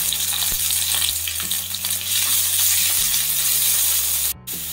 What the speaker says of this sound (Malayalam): ഇനി നമുക്കിതിലേക്ക് ജിഞ്ചർ ഗാർലിക് പേസ്റ്റ് ഇട്ട് കൊടുക്കാം, കുറച്ച് കറിവേപ്പിലയും കൂടെ ഇടാം.